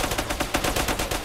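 Rapid automatic gunfire in a video game police shootout, a dense burst of sharp, evenly spaced shots lasting just over a second, close and loud with no talk.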